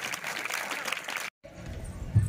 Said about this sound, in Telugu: ఒకసారి గట్టిగా చప్పట్లు కొట్టండి నాన్న